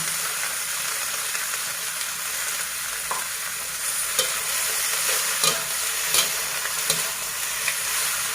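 Cabbage stir-fried with garlic, shiitake mushrooms and chili in fish sauce gives a loud, constant sizzle, broken by occasional sharp clinks of a spatula against the pan, with no voices.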